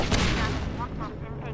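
A loud burst of gunfire from an enemy firing at the player in the Half-Life 2 video game, booming at first and then fading into a reverberant tail.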